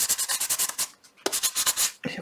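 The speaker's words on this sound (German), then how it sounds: "Vielleicht muss ich das ein bisschen anschleifen." Someone sands a smooth metal piece by hand, with rapid back-and-forth rasping strokes in bursts, a brief pause, then more rubbing.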